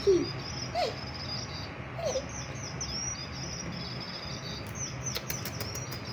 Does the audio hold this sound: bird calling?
yes